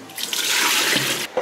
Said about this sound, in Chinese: 把土豆切条， 再把它稍微清洗一下